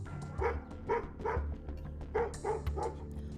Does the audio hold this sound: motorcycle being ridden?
no